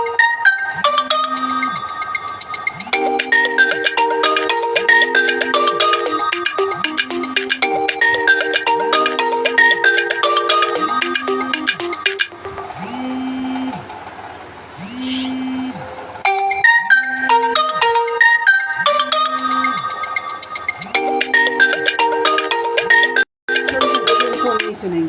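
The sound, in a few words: phone ringtone ringing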